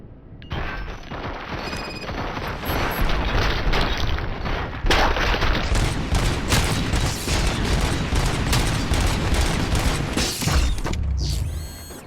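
Dense, sustained gunfire from a firefight in the video game RoboCop: Rogue City, with sharp bursts, mechanical clatter and booms running loud and continuous nearly the whole time, alone without talk.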